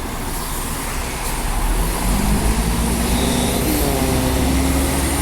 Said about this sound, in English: Listen to the engine sounds of that old bus.